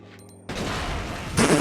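Explosions in Resident Evil Code Veronica X, a sudden loud blast followed by sustained rumbling debris and a second burst near the end, close and harsh.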